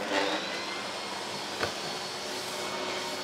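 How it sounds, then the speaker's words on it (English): A vacuum pump drones steadily and loudly while it holds a sheet of 9mm MDF down on a DIY CNC vacuum table, a broad continuous rush with no voices. "I'm just going to put it on the table, let it vacuum down."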